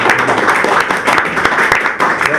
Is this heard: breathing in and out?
no